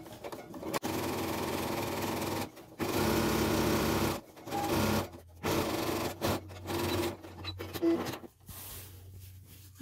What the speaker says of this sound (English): You can even do a second line, running the edge of your presser foot along the first line of top stitching